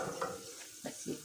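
Garlic sizzles quietly in hot oil or ghee while being stirred, with soft scraping strokes of a spoon against the pan over the steady frying hiss.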